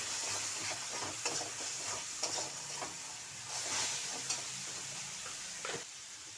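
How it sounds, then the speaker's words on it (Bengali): Pointed gourd fries with cumin, salt and spices in a pan. A moderate sizzle hisses underneath while repeated scraping strokes of stirring come every second or so, fairly close. "দিয়ে মশলাটা ভালোভাবে কষিয়ে নেব।"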